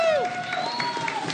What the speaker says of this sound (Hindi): आप लोगों की भरपूर तालियों में मरियम है हमारे साथ आज